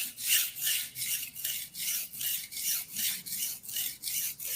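Honesuki knife being sharpened on a wet whetstone, about a dozen rhythmic close rasping strokes back and forth, evenly spaced and alone.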